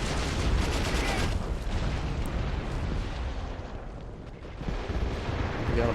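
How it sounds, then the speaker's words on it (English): Artillery fire in Men of War: Assault Squad during a German last-stand defense in the 1943 retreat from Stalingrad: a dense, continuous roar of blasts and rumbling explosions that barely lets up, with a faint voice mixed into the din. "Damn, that artillery's getting closer."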